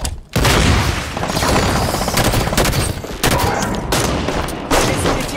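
Rapid gunfire in the Halo 5 video game, loud dense bursts of shots with short pauses between volleys, booming impacts mixed in.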